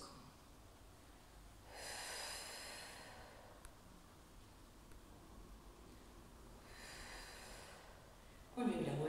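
Two slow, audible breaths during a gentle mobility exercise, a long inhale-like rush early and another later, fairly quiet against a faint room hiss, followed by a brief louder rustle at the end.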